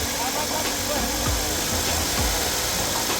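A Suzuki DA64V semi-wagon engine with automatic transmission idling steadily around 2,000 RPM, a smooth continuous hum with no knocking, loud and close throughout.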